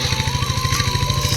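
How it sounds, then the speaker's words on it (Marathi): A tractor engine driven through a lakeside farm field in Zarap, Konkan, chugs steadily at close range, its low, even pulsing running without a break and with no voices. "तिथे ट्रॅक्टर चालवत आहेत"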